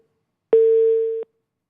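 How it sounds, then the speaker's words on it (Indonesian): A single steady telephone tone on a dropped phone line sounds for under a second, clean and unbroken against silence before cutting off abruptly. "kami sambil terus perbaiki hubungan sambungan telepon dengan pengamat politik Adi Prayitno"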